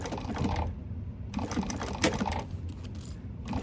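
Sewing machine stitching a vinyl bag in short stop-and-start runs, a close rapid mechanical whirr broken by brief pauses, with light handling noise between.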